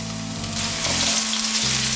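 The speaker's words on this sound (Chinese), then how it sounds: "锅内放入少许橄榄油，油热了之后放入红萝卜，" Carrots frying in a little hot olive oil in a pan, a loud, close, continuous sizzle that hisses evenly throughout with no talking.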